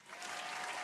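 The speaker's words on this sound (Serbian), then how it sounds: "može jedan veliki aplauz za tog momka" A studio audience at a FIFA 18 gaming show breaks into applause, a brief dense burst of clapping that swells within the first moment and holds steady, moderately loud with no talking.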